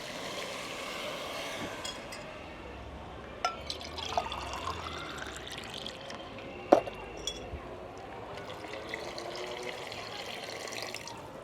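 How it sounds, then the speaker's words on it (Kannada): Water is poured into washed rice in a pot for garlic mushroom rice, a quiet trickling and splashing with occasional light clinks of the vessel, faint and close. "ಅದಕ್ಕೆ 2 ಪಾವಷ್ಟು ನೀರು ಹಾಕ್ತೀನಿ."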